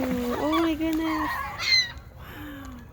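Seagulls and geese in a feeding frenzy at Burke Lake, Virginia, with repeated honks and squawking calls overlapping close by, a brief loud burst near the middle, and outdoor noise beneath.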